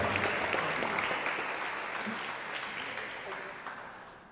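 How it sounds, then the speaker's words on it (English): An audience at a jazz memorial applauds, a burst of clapping that gradually fades, with a voice speaking faintly underneath. "Let's give a round of applause for our..."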